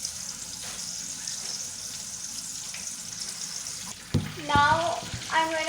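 Corn dogs frying in hot oil over medium heat give a steady, even sizzle that runs continuously, then bubbling surges and clatter near the end as the pan is disturbed.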